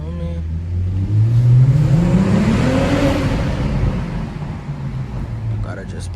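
BMW M440i engine rising in pitch as the car accelerates around a corner, a loud, close rev that climbs then settles into a steady hum.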